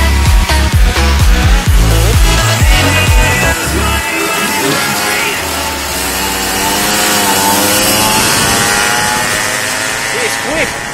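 A racing car engine in a racing video game revs hard with rapid gear-change pulses, then settles into a sustained rising and falling whine, loud and continuous throughout.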